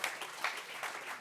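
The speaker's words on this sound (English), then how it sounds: "Thanks for your applause" Brief burst of audience applause at a livestreamed conference opening, moderately loud and steady across the room, swelling slightly in a few pulses before fading.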